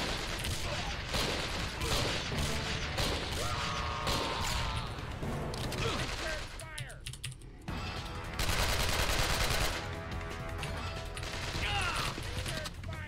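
Grenade launcher and gunfire in the PC video game Alcatraz: In the Harm's Way, loud sustained rapid firing and mechanical clatter with a brief lull, then heavy shooting again.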